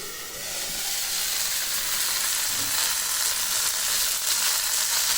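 A large jalebi fish frying in hot oil, giving a loud, steady, dense sizzle and hiss throughout, close by with no talking.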